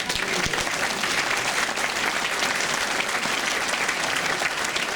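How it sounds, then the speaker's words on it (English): A Christmas show audience gives the English choir dense, steady applause, loud and unbroken for the full stretch, with a crowd murmur beneath the clapping. "let's have a round of applause for our English choir"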